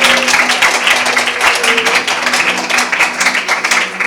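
A church congregation claps hands in praise, a dense, steady wash of applause filling the room at full volume from start to finish with no clear break.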